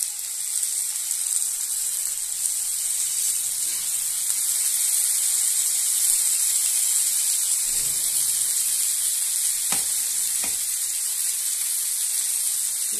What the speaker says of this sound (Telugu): ఆయిల్ హీట్ అయింది. ఇప్పుడు ఫిష్ ముక్కలు పెట్టుకుందాం ఇంతైనా ఇలాగా.